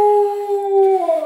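A Siberian husky gives a single sustained howl, loud and close, holding a steady pitch before bending downward and breaking off at the end.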